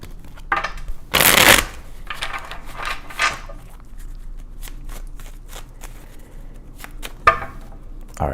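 Tarot cards being shuffled close up, a loud riffle burst followed by lighter flicks and taps of cards being handled.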